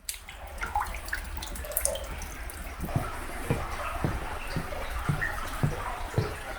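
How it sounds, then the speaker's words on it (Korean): Water trickling along both sides of a cool, low-ceilinged cave, a steady wet wash with soft drip-like taps recurring every second or so, close and continuous with no talk. "동굴 좌우에는 항상 안반수가 흐르고 있네요."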